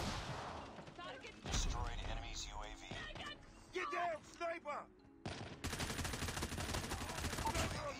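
Rapid bursts of gunfire in the mobile shooter game COD Mobile, from single shots to sustained automatic fire. The shots come in several loud clusters, and a player talks between them.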